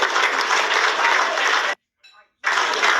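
Applause for a speaker at a government school expansion event, a dense steady clapping from a crowd that cuts off abruptly, leaves a short gap with a faint murmur, then resumes just as loud.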